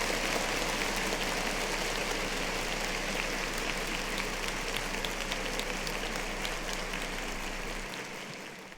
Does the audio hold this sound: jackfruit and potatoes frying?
no